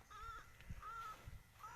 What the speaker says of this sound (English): And now you have the bird that are eating the fish.